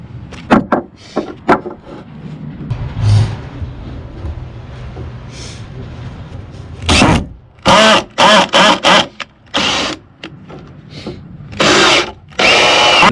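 A power drill bores into a small piece of wood in a series of loud, close bursts of a few seconds each, separated by pauses, with a few clunks and knocks near the start.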